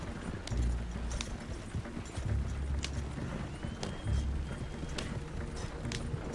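A horse's hooves clip-clop steadily in a video game, moderately close, alongside low rumbling game ambience.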